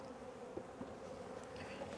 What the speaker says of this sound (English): You can see the lid's got lots of bees on it too.